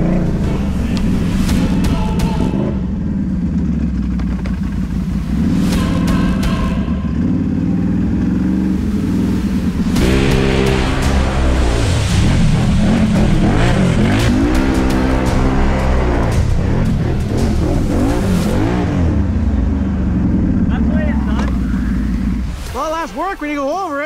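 Can-Am Renegade 1000 ATV on XM 310 tires churning through mud, its engine droning and revving loudly and steadily throughout, with people talking over it.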